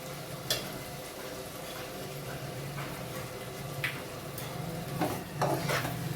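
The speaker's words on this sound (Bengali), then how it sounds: "এবার ভালো করে একটু কষাতে হবে।" Minced meat keema frying and being stirred in a pan for keema pulao, a steady soft sizzle with occasional scrapes and clinks of a spoon against the pan.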